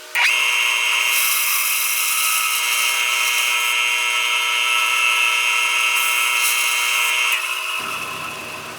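A table saw on a sled with a stop block cuts the second side of a wooden Celtic knot, a loud, sustained whine running for about seven seconds before the blade sound trails off.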